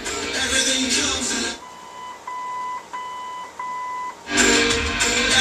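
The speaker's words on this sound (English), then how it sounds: "It will beep and go back to treble and bass." A string of electronic beeps from the original AM/FM radio of a 1972 Chevrolet Corvette, some long and some short, plays in a quiet gap between bursts of louder sound.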